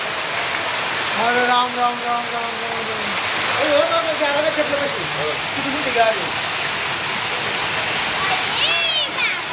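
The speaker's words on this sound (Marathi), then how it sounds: "स्टील वर पडले आवाज येतो" Hailstones pelt steel in a heavy storm with wind, a dense, steady roar of impacts with sharper metallic hits throughout, while people talk and exclaim over it.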